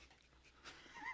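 Peanut, a small dog, gives faint, brief high whimpers that rise toward the end.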